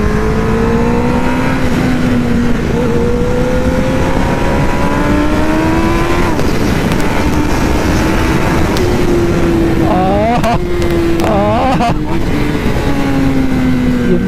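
Race car on a track lap, engine loud and close with a rising, shifting tone as it accelerates through gears, steady under occasional talk.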